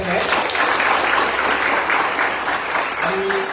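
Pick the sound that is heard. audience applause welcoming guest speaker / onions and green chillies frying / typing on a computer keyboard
audience applause welcoming guest speaker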